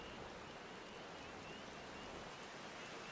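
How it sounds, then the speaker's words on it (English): Steady rain falling in Final Fantasy XIV, a soft, even hiss of drops on surfaces with no breaks, faint and continuous with no voices. "It's raining."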